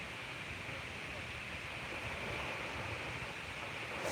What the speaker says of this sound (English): the sounds of the waves